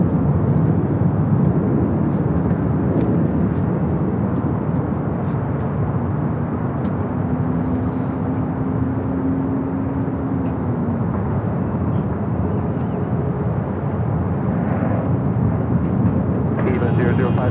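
An EVA Air airliner departing LAX, a broad, loud roar of jet engines that holds steady, swells and fades as the plane climbs away, with people talking over it.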